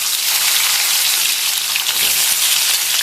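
An egg frying in hot oil in a kadai gives a loud, steady, close hiss of sizzling, with no voices over it.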